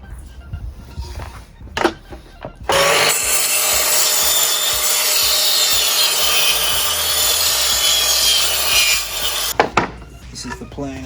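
A hand saw cuts timber at a 45-degree mitre for a bench seat, steady back-and-forth rasping strokes held for about seven seconds, with knocks and clatter before and after.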